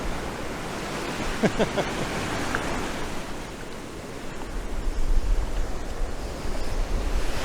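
Ocean waves roll and break on a shore beside a rooftop, a continuous broad wash of surf mixed with gusting wind noise, swelling louder toward the end, with no speech.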